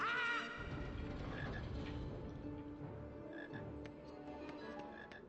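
Repeated low croaking of a frog in the PC game Harry Potter and the Sorcerer's Stone, a steady pulsing croak alone over faint background, with a brief brighter sound at the start.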